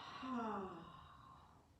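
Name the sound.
exhaling breath during aerial yoga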